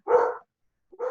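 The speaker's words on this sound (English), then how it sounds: "I apologize for the dog barking in the background" A pet dog barks twice at home, two short, fairly loud barks separated by a brief silence, with no talking over them.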